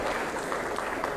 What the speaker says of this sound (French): On applaudit quand même pour M. Blaise, pour Ragna.